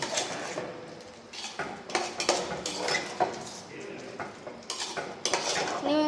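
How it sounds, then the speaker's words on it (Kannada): A quarter litre of curd goes into a pot of biryani and is stirred through, with close scraping and clinking of a metal spoon against the pot and a faint sizzle underneath, in irregular strokes. "ಫುಲ್ ಒಂದು 1/4 ಲೀಟರ್ ಮೊಸರನ್ನ ಈಗ ಬಿರಿಯಾನಿಗೆ ಸೇರಿಸುತ್ತಿದ್ದಾರೆ."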